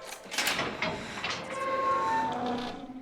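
A heavy steel prison door in a film grinds and slides open, with a low scraping rumble and a thin metallic squeal in the middle, heard alone at close range.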